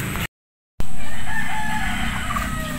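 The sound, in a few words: chickens and rooster crowing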